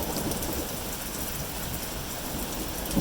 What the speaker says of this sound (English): This is like Montana lightning storm.